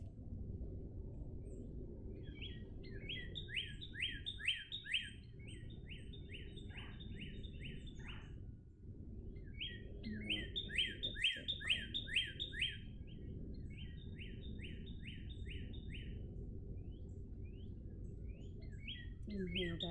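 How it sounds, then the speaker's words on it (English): Wrens sing outdoors in repeated bright, trilling bursts of song, fairly near and clear above a steady low rumble of background noise across the whole stretch. "Now I think we're listening to wrens."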